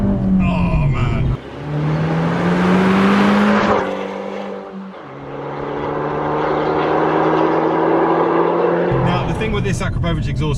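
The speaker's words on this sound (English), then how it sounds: "that Akrapovic exhaust, listen" Abarth 595 Esseesse with an active-valve Akrapovic exhaust revs up hard, its engine note climbing, cutting out and rising again in loud, close blasts.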